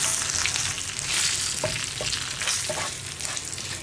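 Spice powders with asafoetida heat in coconut oil for a Kerala drumstick sambar, giving a loud steady sizzle with soft stirring scrapes throughout.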